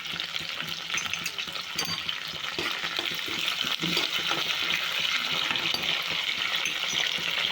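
Sliced onions and curry leaves frying in hot oil for an ivy gourd curry, a steady close sizzle with stirring scrapes and clinks, no talk.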